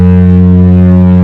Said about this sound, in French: essayer de sonner la corne de brume du bateau